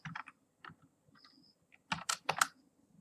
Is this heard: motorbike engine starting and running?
no